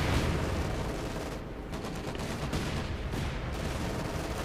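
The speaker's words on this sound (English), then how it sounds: "Artillery strike called in here." Artillery strike in the Company of Heroes 2 game, a dense, continuous roar of explosions and gunfire filling the whole stretch, loud and steady with no break and no voices.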